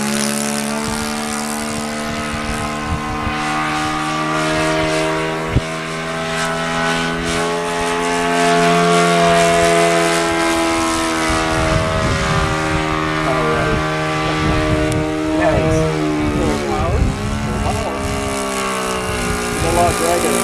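Electric motor of a Great Planes Tiger Moth model airplane, a steady high whine with strong harmonics that holds and shifts in pitch as the plane passes, with people talking over it.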